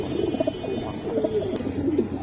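Green Neck Budapest pigeons at a pigeon sale, soft repeated low cooing from birds close by, continuous with overlapping calls.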